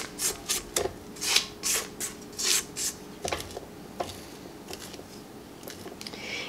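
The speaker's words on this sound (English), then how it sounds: "we're going to scrape down the bowl. Scrape off our beater a little bit." A spatula scrapes down a mixing bowl and beater after butter and sugar have been creamed for gingerbread cookie dough, giving a series of close, dry rasping strokes in an irregular rhythm, with no talking.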